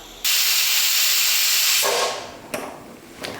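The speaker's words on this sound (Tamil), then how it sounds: "3 விசில் வந்து ஆஃப் பண்ணியாச்சு." A pressure cooker cooking veg biryani lets out a loud, sustained steam whistle hiss for about two seconds, then trails off as quieter hissing bursts and puffs of escaping steam follow.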